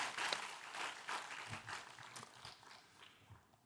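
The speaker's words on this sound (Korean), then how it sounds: "영광의 박수 하나님께 돌려드리겠습니다" A congregation at a Wednesday church service gives a short, quiet round of applause, a few scattered claps fading out within seconds.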